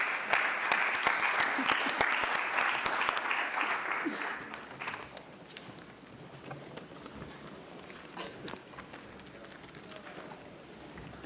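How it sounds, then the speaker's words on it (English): Summit audience applauding the members of a panel table, loud dense clapping for about four seconds that then tapers into scattered claps, shuffling and low murmuring voices. "big applause for the members of this table"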